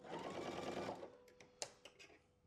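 Domestic sewing machine stitching a quilt block's middle fabric, a steady fast whirring run for about a second that then stops, followed by a few faint clicks and handling taps.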